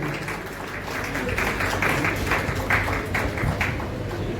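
An audience claps steadily at a book release ceremony in Uttarakhand, a continuous wash of many hands at even volume lasting the whole few seconds, with a low background hum underneath.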